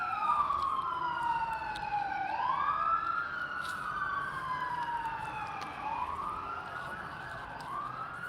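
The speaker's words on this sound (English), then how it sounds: "All these sirens, hold on." Several emergency sirens wail and yelp together, pitches sweeping up and down in overlapping cycles, steady and moderately loud at a middle distance.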